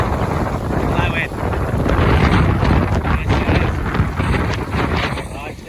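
Strong gusting wind roars continuously over a mountain path in Snowdonia during 50mph winds and heavy rain, buffeting the microphone in a loud, dense rush that barely lets up for the whole stretch.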